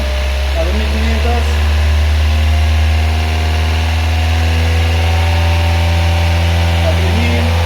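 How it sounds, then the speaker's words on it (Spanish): A car engine running steadily during a charging system test with revs raised toward 2500 RPM, a loud, constant mid-pitched drone with a strong low hum, heard alone without talk. "A ver, aumente las RPM a 2500."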